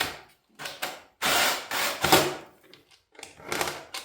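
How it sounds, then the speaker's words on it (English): Rear plastic panels are pried and pulled off a crashed KTM Freeride 250R enduro dirt bike, producing a series of close cracking, clicking and rattling bursts separated by short pauses. "I'm going to start by stripping out these rear plastics."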